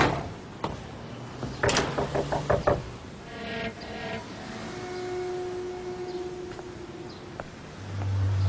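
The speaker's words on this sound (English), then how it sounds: "Did you hear us knocking?" Knocking on a door in a crime film scene, a quick burst of several sharp raps close by, followed by quieter room sounds and faint movement.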